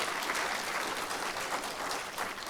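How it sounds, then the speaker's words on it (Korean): Steady applause from a church congregation at a dawn prayer service, dense clapping that fills the whole moment at an even level with no talking over it. "큰 박수로 환영해 주시기 바랍니다."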